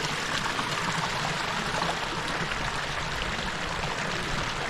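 River water of the Rio Grande at Big Bend, beside a natural hot spring, flows around a swimmer as a constant close hiss and rush, with no talk.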